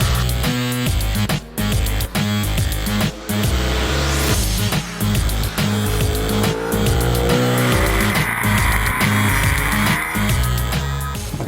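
A Ducati 1199 Panigale sportbike is ridden hard on a race track, its loud engine roaring continuously through gear changes and rising and falling revs, close and dominant throughout.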